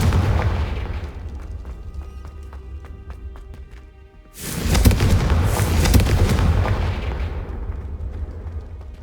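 The Confringo blasting spell in Hogwarts Legacy bursts with a sudden loud boom after a quieter stretch of rapid clicking pulses, followed by a rumbling, crackling explosion that slowly decays.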